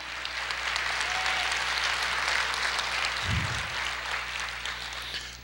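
Congregation clapping in a church service, a steady dense wash of applause that runs evenly for several seconds at moderate level.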